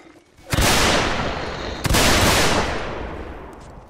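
Rifle gunfire in the video game North and South arrives as two loud, dense volleys, each a sharp crack that rolls into a long, fading rumble.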